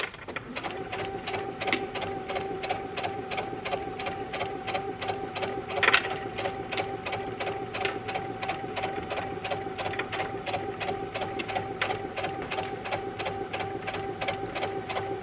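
A sewing machine runs steadily while stitching a shirt neckline, making a continuous rhythmic close-up whir with fine regular needle ticks throughout and one brief bump partway.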